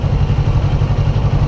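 A costly motorcycle's engine idles or ticks over nearby with a steady, pulsing low-pitched throb and light mechanical clatter, alone without talk.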